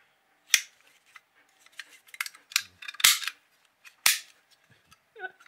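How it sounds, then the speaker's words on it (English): An old cap gun firing roll caps: several sharp, close snapping pops mixed with lighter mechanical clicks, irregularly spaced over a few seconds. "An old cap gun. This used the roll caps."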